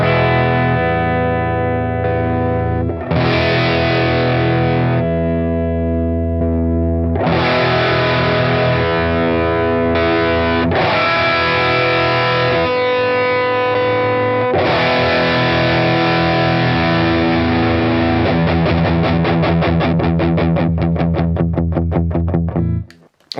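An electric guitar plays through the amp models of a Boss Katana 50 Gen 3, ringing chords and single notes with a brief gap around three seconds, changing tones at intervals, then a fast strummed passage at the end, all loud and close.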